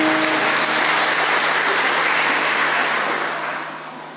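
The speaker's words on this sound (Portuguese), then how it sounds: "aplauda Jesus por isso" Congregation applauding during a Catholic sermon, a broad, dense wash of clapping from many hands, loud and continuous, tapering slightly at the end with no voices.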